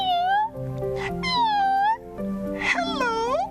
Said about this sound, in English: Just then, Onyok saw another cat in front of him.